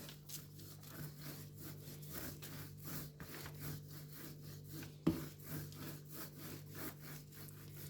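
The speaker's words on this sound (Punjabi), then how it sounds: "ਹੁਣ ਆਪਾਂ ਵੇਲਨੇ ਨਾਲ ਵੇਲ ਲਾਂਗੇ ਇਹਨੂੰ ਪਤਲੀ ਬਣਾ ਲਾਂਗੇ" A rolling pin works flaxseed dough flat on a surface, making thin papdi; quiet, steady back-and-forth rubbing strokes repeat in a close, even rhythm with no voices.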